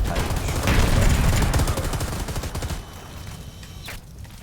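Rapid automatic gunfire from soldiers in Predator Hunting Grounds crackles in dense bursts, loud and continuous at first, then thinning to scattered shots.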